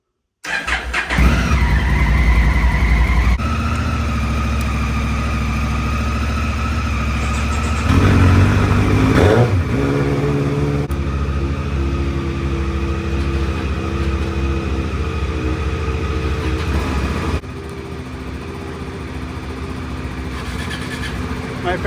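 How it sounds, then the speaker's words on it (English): A Honda Africa Twin motorcycle cranks and fires up, then settles into a loud, close idle with a couple of rising revs and a brief squeal, the engine note dropping slightly toward the end. "Here goes the Africa Twin."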